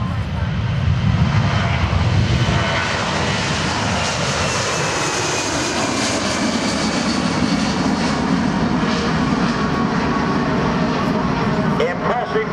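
A USAF C-17 Globemaster III jet roars loudly and continuously during its takeoff run at an airshow, with the rising engine pitch sweeping across the full duration.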